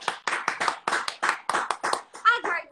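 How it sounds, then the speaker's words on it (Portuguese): An audience claps for a guest being introduced on stage, a burst of uneven hand claps with excited voices and cheers mixed in. "Palmas pra ela."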